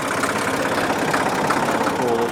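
A tractor engine idles with a steady, knocking mid-to-low rumble, close and constant throughout.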